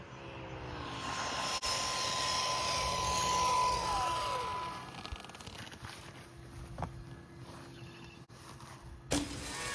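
A Rlaarlo DSK RC car on a Turnigy Panther LiPo pack at full throttle outdoors, its high electric motor whine rising and sweeping as it speeds off and fades into the distance, then returns briefly near the end.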